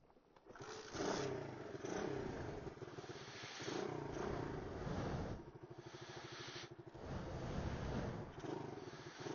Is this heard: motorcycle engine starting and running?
yes